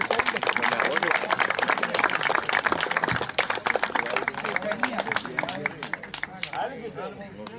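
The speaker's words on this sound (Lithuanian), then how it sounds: "Plojimai." Crowd applause at an outdoor football cup award ceremony in Užventis, a dense, steady clapping from many hands that runs the full length and eases slightly toward the end, with some murmuring voices mixed in.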